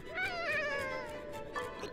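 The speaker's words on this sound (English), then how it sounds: "Giant cat that lives only in the autumn forest." A giant cat creature from the autumn forest in the video game Ni no Kuni: Cross Worlds lets out a long, wavering meow, drawn out and pitched up and down, with a short second cry near the end.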